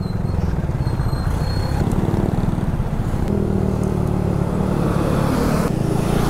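Dense road traffic in Ligao, Bicol, Philippines: a steady mix of car and motorcycle engines idling and creeping along close by, a continuous low rumble with occasional revving and clatter and no pauses.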